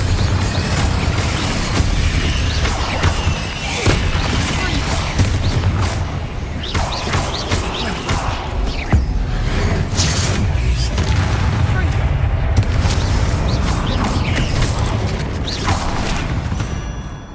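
Spell blasts including Confringo and Incendio during Hogwarts Legacy combat, a dense run of booms, thuds and crashes with voices speaking over the fighting.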